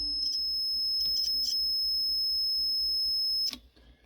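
A multimeter sounds a steady, piercing continuity tone for about three and a half seconds across a shorted diode on a President HR 2510 radio's circuit board, with small clicks from probe contact before it cuts off.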